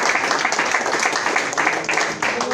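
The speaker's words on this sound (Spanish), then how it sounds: "Dar un aplauso al Señor." Church congregation applauding in a steady, dense burst of clapping that fills the space for a couple of seconds, with some voices mixed into the crowd noise.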